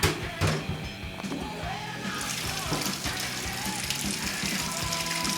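Water runs from a tap and splashes into an Xbox 360 console, a close hissing, gurgling stream with clattering knocks early on, continuing steadily to the end.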